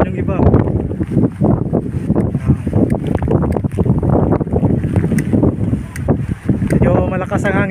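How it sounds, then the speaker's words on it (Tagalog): Strong wind buffets the microphone during a motorcycle ride in Catanduanes, a loud continuous roar of gusts with engine and road noise mixed in, and voices talking over it throughout. "Medyo malakas ang hangin dito."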